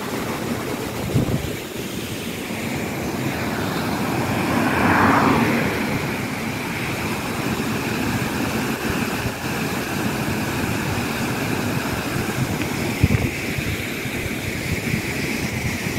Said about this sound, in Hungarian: Megálltunk, mögöttem egy vízesés.